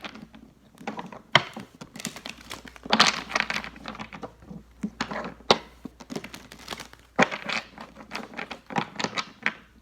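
A deck of reading cards shuffled by hand up close, with repeated bursts of papery riffling and slapping in uneven waves and short pauses between, and no talking.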